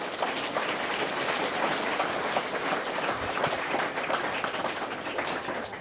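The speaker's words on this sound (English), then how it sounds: "can I ask us all to put a big round of applause for the generous" A school ceremony audience at Naivicula, Fiji, gives a sustained round of applause for a donation, dense continuous clapping from a large crowd, even and moderately loud throughout with no speech.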